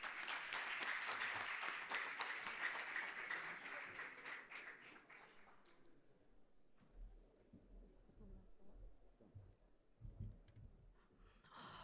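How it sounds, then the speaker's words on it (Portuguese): Audience at a financial careers talk breaks into applause that runs for several seconds and then fades out, leaving quiet room noise with low thumps and murmurs afterward. "Uma salva de palmas, por favor."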